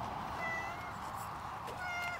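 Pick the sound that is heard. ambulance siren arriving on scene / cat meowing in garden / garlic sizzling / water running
cat meowing in garden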